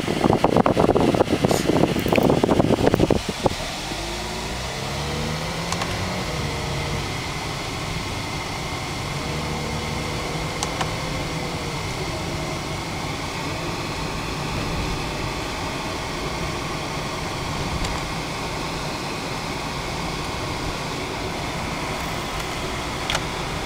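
A Mazda RX-8 driving along a road, its engine holding a steady, continuous drone with a gear change, loud wind and road rumble at first before settling into a smooth, even cabin hum.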